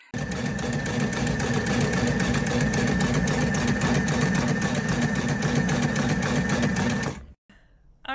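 A Sailrite Ultrafeed LS walking-foot sewing machine stitches in a fast, even mechanical chatter for about seven seconds, loud and close, then stops abruptly.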